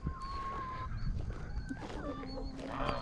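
A farmyard goose gives scattered honks amid a chorus of chickens and other fowl, moderately close but fairly quiet, among other outdoor bird calls.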